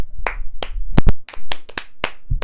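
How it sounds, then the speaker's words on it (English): A short burst of hand clapping during a podcast, a handful of sharp, uneven claps close to the microphone with no talk over them. "let's give a round of applause to Vardy"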